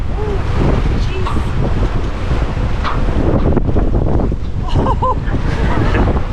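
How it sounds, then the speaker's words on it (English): Strong wind gusts over a sailboat on a bay, a loud constant roar buffeting the microphone with waves washing beneath, and a voice exclaiming briefly over it. "That wind's really picking up."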